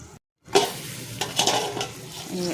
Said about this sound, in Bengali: এখানে ফুলকপি আলু দিয়ে ভাজি বসিয়ে দিয়েছি